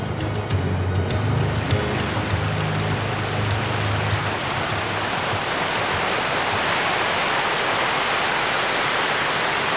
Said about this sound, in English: we hear the ominous rumble of a really big drop